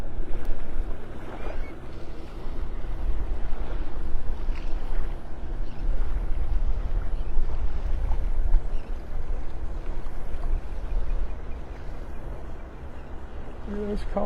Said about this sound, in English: This boat going out's really fighting the current,